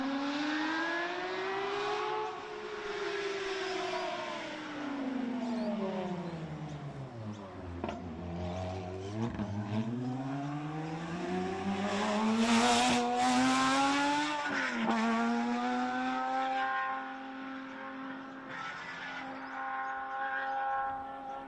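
A 2010 Porsche 997 GT3 rally car roars past on a rally stage with a rising then falling engine pitch, revving hard and shifting gears, loud and close with no voices.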